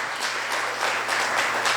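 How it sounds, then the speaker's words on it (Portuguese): Applause from a church congregation during a Thursday worship service, a short burst of steady, dense clapping filling the room at moderate volume with no talking over it. "aplaudir ao Senhor em nome de Jesus"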